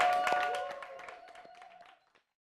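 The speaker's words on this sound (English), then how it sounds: "Everybody give a round of applause for Olivia Rose." A small audience gives brief applause for a performer at a live press-center show, a few scattered claps fading out within about two seconds.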